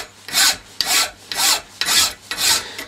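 A metal file rasps across a flintlock cock casting being cleaned up, five even back-and-forth strokes at a steady rhythm, close and clear with nothing else heard.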